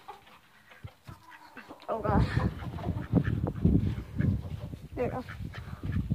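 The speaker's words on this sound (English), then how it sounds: "Another chicken. Chickens. More and more chickens everywhere." Chickens cluck and chatter close by in a backyard flock from about two seconds on, mixed with someone talking over them.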